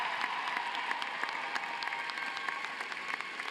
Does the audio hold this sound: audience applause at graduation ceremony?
yes